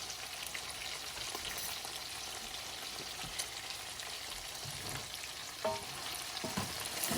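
Tomatoes, red chili and garam masala sauté in a pan for lamb chop pulao, giving a steady, soft sizzle with faint stirring scrapes throughout, no voices.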